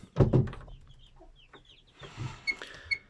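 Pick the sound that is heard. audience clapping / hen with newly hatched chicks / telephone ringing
hen with newly hatched chicks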